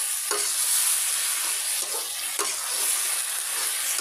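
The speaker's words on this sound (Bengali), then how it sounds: "আমি এই যে পাতাকপিটা ভাজি করছি" Shredded cabbage stir-fries in a pan with a continuous bright sizzle close by, and a few soft scrapes of stirring rise above the steady hiss.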